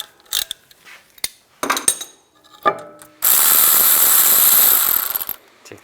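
A ratchet loosens a bolt on a 2014-2022 Jeep Cherokee rear wheel hub. Short, close bursts of sharp pawl clicking are followed by a loud, sustained run of rapid ratcheting that fades out near the end.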